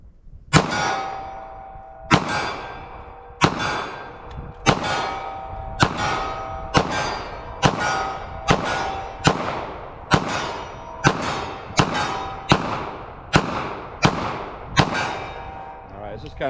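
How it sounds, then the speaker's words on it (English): A Smith & Wesson Governor revolver firing .410 slugs at a target 25 yards away outdoors, about a dozen loud, sharp reports at an even pace of roughly one per second, each with a ringing tail. "Let's shoot from that 25 yards, see what we get for practical accuracy."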